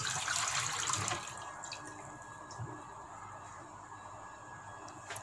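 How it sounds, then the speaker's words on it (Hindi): Water pours steadily into a cooking pot on the stove for about a second, then settles into a quieter running trickle and faint splashing that continues to the end. "पहले हम 1 लीटर पानी ऐड करेंगे।"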